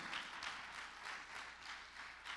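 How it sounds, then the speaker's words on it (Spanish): A church congregation claps in praise during a pastoral ministry service: steady, dense applause from many hands with rhythmic swells, heard from a distance in a reverberant room. "Dele palmas fuerte al Señor"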